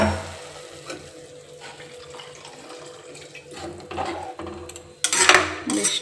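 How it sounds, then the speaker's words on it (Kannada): Water is poured into a pot of sprouted legume curry being cooked in a home kitchen. The pour is a continuous splashing trickle that swells to a louder gush near the end, with faint clinks of pans. "ಇದಕ್ಕೆ ಇವಾಗ ಒಂದು 2 ಗ್ಲಾಸ್ ನೀರು ಹಾಕ್ತೀನಿ."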